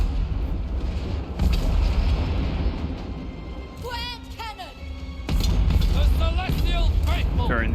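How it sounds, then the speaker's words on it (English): Cannons fire in a Warhammer 3 battle, deep booms rolling over a dense din of fighting, with a voice talking over the noise. "How many cannons we got left? 3? Okay, fire on the Soul Grinder."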